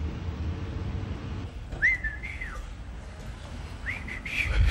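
Two short whistled notes, each rising and bending, separated by a pause over a low background murmur.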